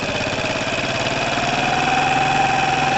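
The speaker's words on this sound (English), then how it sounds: "If I cover it, listen to the engine, it runs better," A 2012 Piaggio Typhoon scooter engine idles steadily with its split intake air leak covered, giving a continuous close buzzing hum at an even level with no speech.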